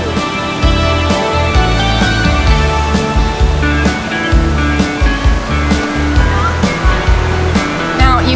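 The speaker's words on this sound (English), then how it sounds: "Beautiful tall falls, you can hike all the way up to them." A tall waterfall at Mt Rainier National Park roars as a loud, continuous rush of falling water, close by and steady, with a few voices faintly mixed in.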